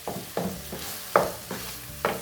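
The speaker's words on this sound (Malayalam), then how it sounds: "നന്നായിട്ടൊന്ന് ഇളക്കി കൊടുക്കാം." Puttu, banana and nuts are stirred in ghee in a pan, a rhythmic series of about six scraping strokes over a faint sizzle.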